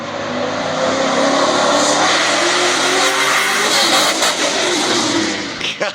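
A loud pickup truck roars past close by, its engine and exhaust swelling into a sustained broadband rumble that fades near the end.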